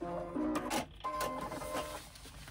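A sewing machine stitches a seam down to the end of a fold, producing short, faint mechanical whirring bursts with brief pauses between them over a couple of seconds.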